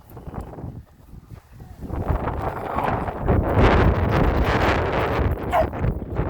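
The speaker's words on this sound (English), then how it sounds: "It is a cold, windy day" Wind buffets and roars across the microphone, gusting stronger after a brief lull and staying loud and steady to the end.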